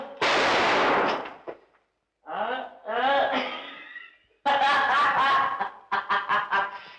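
A single loud gunshot blast in a 1954 Hindi film rings out and decays quickly, followed after a pause by several lines of close male speech.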